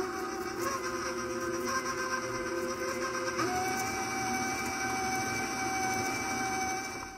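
An electric stand mixer whirs steadily as it mixes double chocolate cookie dough, a continuous motor hum with a tone that shifts pitch partway through, close and unbroken.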